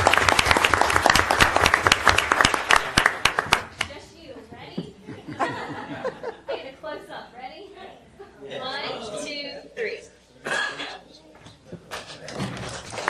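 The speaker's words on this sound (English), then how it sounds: "One final time, let's give all of our educators a big round of applause." Applause at a board of education meeting for educators, a loud burst of clapping from the audience for the first few seconds, then fading into scattered chuckles and murmured talk.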